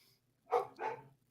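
A dog gives two quick barks in a row, moderately distant against a quiet background.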